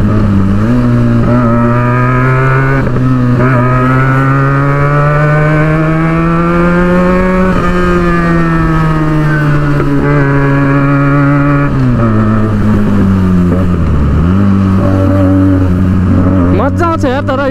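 A motorcycle engine revs and holds a loud, steady drone, with pitch rising and falling across several throttle swells and a brief dip near the end, close to the microphone.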